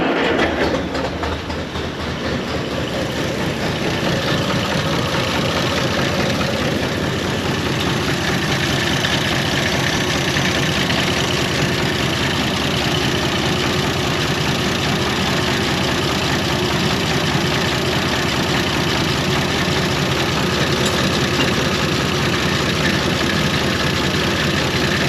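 A 1930 International fire truck engine turns over and settles into a steady, loud idle close by, its low rumble pulsing evenly with no voices.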